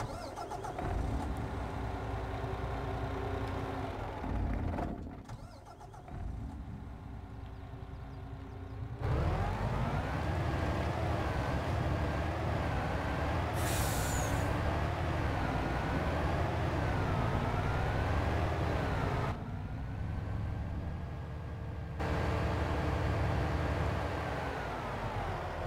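Engine of a MAN TGS truck in Farming Simulator 22, a steady droning rumble that idles and revs with shifting pitch, heard from outside the cab, loud and continuous with short cuts, no talking.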